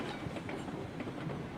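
Close, steady rumble of a train rolling along the track in the game RailRoads Online, with faint rhythmic clicking of the wheels running continuously throughout.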